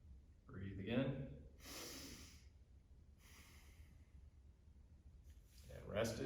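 Breathing during a stretching exercise in a balance and stability fitness session, a few quiet audible breaths and exhales spaced over several seconds, with soft voice sounds in between.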